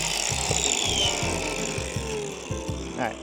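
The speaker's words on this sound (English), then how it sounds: "use our angle grinder with our safety glasses" An angle grinder cuts steel boat rigging wire during repairs to a demasted sailboat, a steady loud whirring grind with rhythmic low pulses running throughout, close by.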